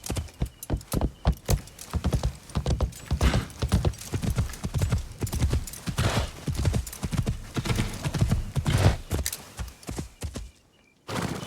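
Horse hooves in Assassin's Creed Shadows clip-clop in a steady, rapid rhythm on a hard surface, close and clear, fading out abruptly near the end.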